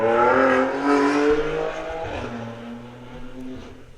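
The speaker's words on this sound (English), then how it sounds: "That's a very loud car." A very loud car passes outside with a roaring, revving engine, its harmonic drone sliding in pitch as it goes by, close and dominant throughout with no talk over it.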